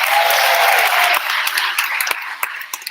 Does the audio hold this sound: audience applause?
yes